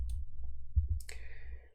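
A computer mouse and keyboard give a few sharp, close clicks: a quick pair near the start, then a key press, all alone in an otherwise quiet room.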